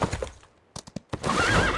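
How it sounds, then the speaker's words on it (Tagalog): A horse whinnies loudly and close, a rising, wavering neigh that follows a few sharp hoof-like knocks, with faint background noise before it. "Horsey."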